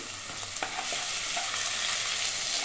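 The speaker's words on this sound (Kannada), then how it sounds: "ಈಗ ಮತ್ತೊಂದು ಸರಿ ಚೆನ್ನಾಗಿ ಮಿಕ್ಸ್ ಮಾಡ್ಕೊಳ್ಳಿ" Potato bonda filling being mixed in a hot pan with chilli and coriander powder, a continuous soft sizzle with a few light spatula scrapes, close and steady.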